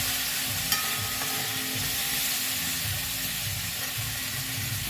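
Fenugreek (methi) greens fry and get stirred in a hot pan, giving a steady broadband sizzle that runs the whole time with soft scraping stir sounds underneath and a single brief clink near the start.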